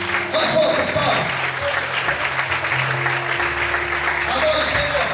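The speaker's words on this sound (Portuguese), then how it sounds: "Mais outras palmas." A church congregation applauds during an evening worship service, loud sustained clapping throughout with a sustained musical tone and voices beneath.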